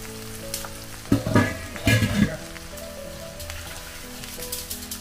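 Pork leg fries in its own rendered fat in a Saladmaster skillet, giving off a close, steady sizzle. A few louder bursts of stirring and spattering come early on, then the sizzle settles.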